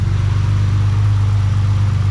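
A cold BMW E30 with an automatic gearbox idles at about 1,000 rpm, a loud, close, steady low engine hum with an even rhythm and no voices.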